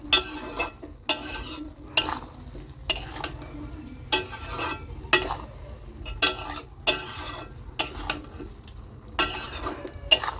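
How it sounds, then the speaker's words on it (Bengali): Basanti polao ingredients are stirred in a pot, the spoon scraping in a regular rhythm of about one stroke per second, close and clear over a low steady hum, with no talk. "এগুলোকে ভালো করে মিশিয়ে দিই।"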